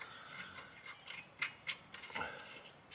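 Stainless steel nylon-insert nuts are tightened onto steel studs to fit an anode on a narrowboat, giving a close run of short ratcheting, grinding metal clicks in uneven bursts.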